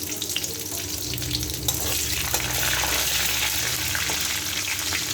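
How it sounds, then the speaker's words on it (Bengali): Vegetables sizzle and fry in hot oil in a pan, a steady crackling hiss with bubbling and occasional spatters, close and continuous throughout with no talking. "এই জন্য এই তেলে আওয়াজটা হচ্ছে।"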